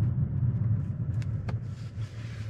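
A 2022 Chevy Blazer RS rolls up and comes to a stop, its low engine rumble steady and close throughout, easing slightly near the end.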